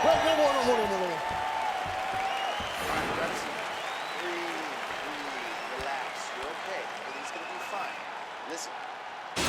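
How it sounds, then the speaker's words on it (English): Arena crowd in the EA Sports UFC 4 fight game, Israel Adesanya versus Khamzat Chimaev, cheering and applauding at the end of a round; a steady, moderately loud roar that runs throughout, with commentary talk over it. "So the crowd voicing its appreciation after that round."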